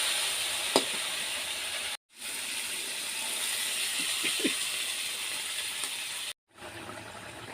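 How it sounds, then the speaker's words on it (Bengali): Water hits a pan of pointed gourd fried with dried chili and ginger paste, giving a steady close sizzling hiss with a few small clinks, broken twice by brief cuts to silence. "এখন আমি জল দিয়ে দেব।"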